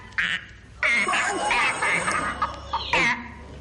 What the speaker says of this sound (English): It's a bullfrog from Ceylon